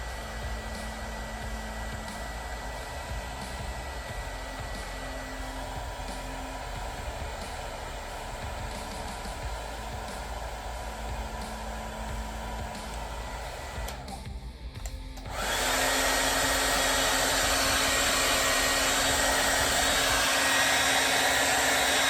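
A heat gun drones steadily on low setting, then abruptly switches to a louder, brighter rushing hiss that continues to the end.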